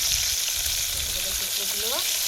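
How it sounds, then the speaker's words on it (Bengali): Fish frying in hot oil in a pan, a steady loud sizzle filling the whole clip, with a faint voice murmuring briefly beneath it. "মাছটা ভেজে নেব"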